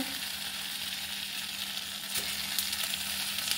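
Washed Gobindobhog rice frying in oil with a spice paste makes a loud, continuous close sizzle, with a brief stirring scrape near the end and no voices.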